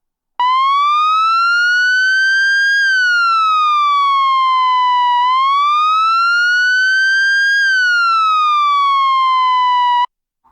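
A synthesized police siren wails loud and alone, its pure tone sweeping slowly up and down through two full rise-and-fall cycles before cutting off abruptly.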